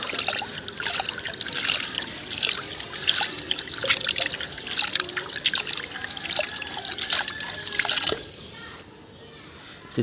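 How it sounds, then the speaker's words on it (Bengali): Iron-rich tap water pours and trickles steadily into a fish tank on an oranda goldfish breeding farm, a continuous splashing that stops abruptly near the end. "এখানে আমি ডাইরেক্ট জল দিচ্ছি"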